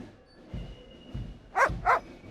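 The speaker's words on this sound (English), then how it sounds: "Oh, there's a dog." A dog barks in the adventure game Broken Sword 2.5: soft low woofs at first, then two sharp, louder barks close together near the end, against a quiet game background.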